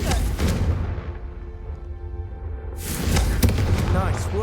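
Confringo fire spell cast in the Hogwarts Legacy video game: heavy booming blasts and thumps, a loud burst at the start, a quieter stretch, then another crashing impact, with a voice speaking over the action.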